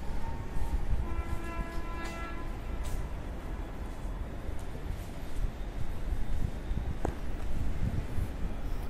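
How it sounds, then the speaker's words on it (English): A Delhi Metro train in Azadpur, Delhi, passes beside an 18th-floor penthouse terrace, a steady rumbling rail roar with bell-like tonal notes early on and a sharp clank near the end. "This is the Delhi metro"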